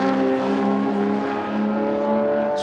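Racing cars hurtling down toward Woodcote at the Goodwood Members' Meeting, a sustained loud engine drone with steady tonal harmonics, holding pitch as the cars pass close by.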